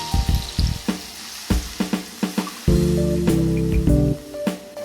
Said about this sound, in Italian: rosolato, ci mettiamo del vino